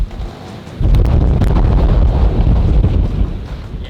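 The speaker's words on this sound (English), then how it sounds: "Yeah, that is windy." Strong gusts roar across a sailboat at sea, buffeting the microphone in a loud, rumbling rush that swells suddenly after a quieter opening second and stays heavy.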